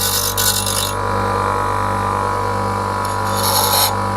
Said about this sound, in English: just take it back to the grinding wheel